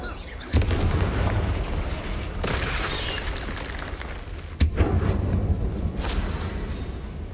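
Bombarda spell explosions in Hogwarts Legacy, heavy booming blasts breaking a barricade, with a sharp burst near the start and another around the middle, followed by rumbling debris and a sustained roar between them.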